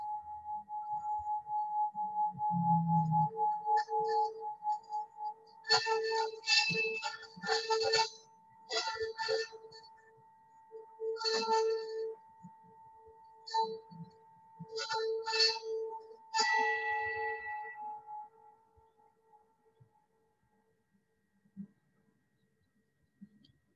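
Metal bell or chime struck repeatedly in short bursts, bright ringing strikes over a steady sustained tone, fairly quiet and close, with gaps of near silence and a low thump early on.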